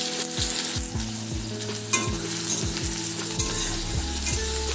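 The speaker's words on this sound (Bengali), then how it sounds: "ওটা দিয়ে আমি ফ্রাই করে নিই একটুখানি।" Chopped onion frying in a pan for a Bengali prawn curry, steady sizzling with repeated scraping and stirring strokes of a utensil, close and continuous.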